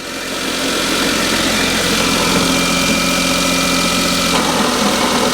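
A car engine with a new clutch cable drones steadily and loudly, close by, while it is shifted into gear, with a faint change in tone near the end.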